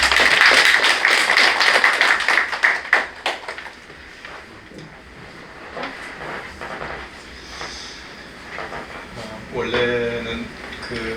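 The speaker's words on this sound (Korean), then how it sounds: "박수로 환영해 주시면 감사하겠습니다" Audience clapping in a seminar room at a Korean Christian forum on heresy, a burst of many hands that starts loud and fades within about four seconds, followed by faint room noise and a voice near the end.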